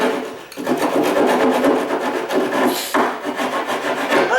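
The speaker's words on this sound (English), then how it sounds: "Now I can just rasp this edge off." Steady rasping strokes of a hand rasp shaving down the edge of a wooden bed box side rail, a continuous close scraping with a brief pause partway through, no talk.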